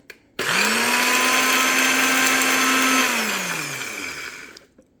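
A blender pulses dried fruit into a fine powder meant as worm feed, one sustained close, loud whirring run of about four seconds that winds down at the end.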